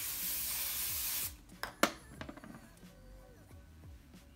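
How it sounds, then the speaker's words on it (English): A can of hair texture spray hisses in one continuous burst for about a second, then stops, followed by quiet handling clicks and rustles of hair close by. "Section is done, so I'm just gonna take more texture spray."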